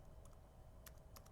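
A handful of soft, quiet keystrokes on a computer keyboard type out a short command over a low, steady background hum.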